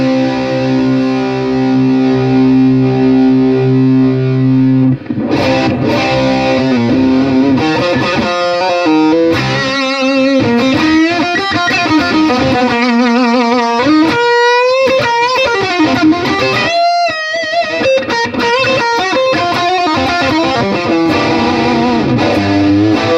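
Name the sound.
electric guitar through Nobels DT-1 distortion pedal at maximum drive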